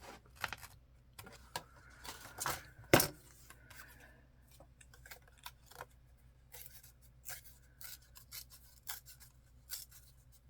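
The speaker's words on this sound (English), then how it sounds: "I'm going to cut this intended pocket off" Scissors cut a fabric pocket off a garment in quiet, scattered snips and rustles, with one sharp click partway through, faint and close, no speech.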